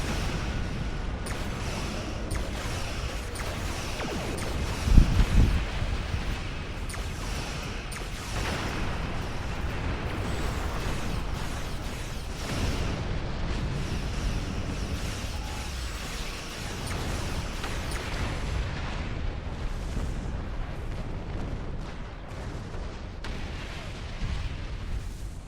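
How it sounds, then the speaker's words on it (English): Torpedoes fired at ships in a Star Trek space game, with one sharp, booming launch or impact over a continuous roar of rumbling space-battle ambience and scattered distant blasts. "Hey, have a few torpedoes."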